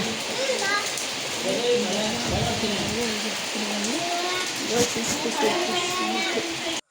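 Steady hiss of rain falling throughout, with a voice speaking or singing over it.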